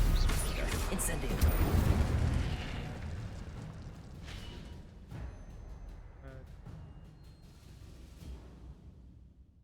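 The Incendio fire spell cast in Hogwarts Legacy, a loud roaring burst that crackles and then fades slowly away over several seconds.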